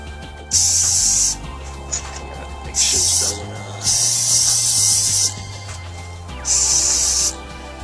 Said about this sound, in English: the trick of spray painting is you don't do it in long bursts